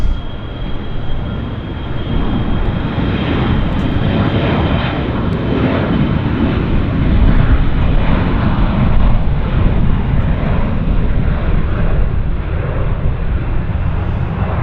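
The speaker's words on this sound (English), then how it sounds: "We've got an Air Canada Jazz CRJ that's already rolling, actually, at speed." An Air Canada Jazz CRJ regional jet roars down the runway on its takeoff roll at Vancouver airport, a loud, steady broadband engine rush sustained throughout, with no talk.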